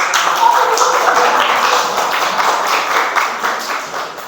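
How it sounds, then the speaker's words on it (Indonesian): Classroom group of teachers gives a round of applause after a group presentation, a dense patter of clapping lasting several seconds with a voice over it. "Kita berikan tepuk tangan dulu"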